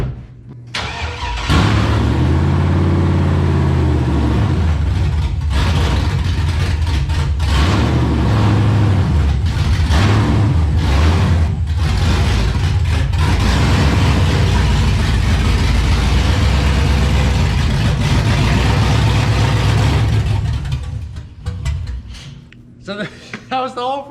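A cammed 5.3 Chevrolet Silverado burnout truck cranks and fires, then settles into a loud, choppy, lumpy idle up close for about twenty seconds before cutting out, with people talking over it.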